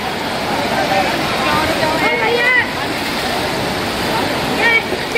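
The strong current of the Ganges at a ghat in Haridwar on a rainy day makes a loud, continuous rushing roar, with faint background voices and a few whistle-like tones.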